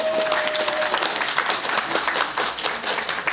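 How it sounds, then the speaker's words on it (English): Audience applause at Chester Comic Con, a steady wash of many hands clapping throughout, fairly close and loud, with a brief tonal whistle early on and no speech over it. "Please give him a massive round of applause"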